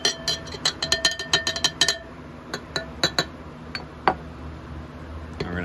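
Plaster of Paris powder and tools going into a big beaker give a run of sharp clinks and taps, dense at first and then spaced out, close and fairly loud with no talking.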